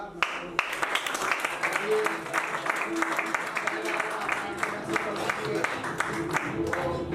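Applause from an audience at an office opening celebration as a kabaddi gold medalist is welcomed, a dense, steady patter of many hands clapping continuously at moderate loudness, with some voices mixed in.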